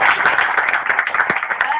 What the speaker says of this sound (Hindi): कमाल ताली होनी चाहिए ना